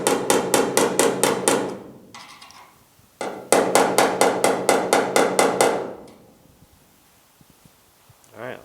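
A hammer taps a lump out of a Pontiac GTO restomod's car door panel in two quick close bursts of sharp, evenly spaced metallic knocks, about seven then nine, with a short pause between and quiet afterward.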